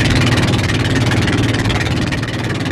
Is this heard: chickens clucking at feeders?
no